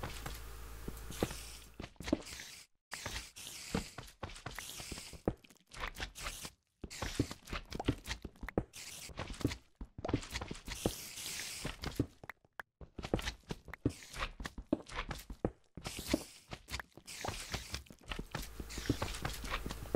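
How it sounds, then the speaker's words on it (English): Footsteps in the Minecraft video game come as a steady run of quiet crunching steps with short pauses, faint and continuous in a game setting. "Not the spiders, those footsteps."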